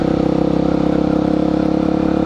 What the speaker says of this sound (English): If the bike sounds any different, I put the silencer in the exhaust